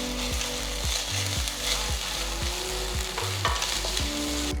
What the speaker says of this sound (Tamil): வெங்காயம் வதங்கினதும் இதில் 2 டீஸ்பூன் இஞ்சி பூண்டு பேஸ்ட் போடுங்க.